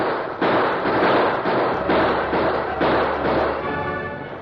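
Rifle gunfire from an attack on a wagon train in a Lone Ranger western drama crackles as a steady, dense run of sharp shots, loud and continuous with no voices.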